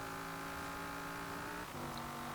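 A 1965 Shelby Cobra Daytona Coupe in Forza Horizon 4 accelerates hard, its engine drone steady and loud with layered harmonics, then briefly dips at a gear change before pulling on.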